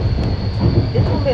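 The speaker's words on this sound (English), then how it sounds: "We're now in a local train from Almaty to Shymkent, Turkestan." A local passenger train from Almaty to Shymkent rumbles steadily from inside the carriage, a close, low droning roll with a faint squeal near the end.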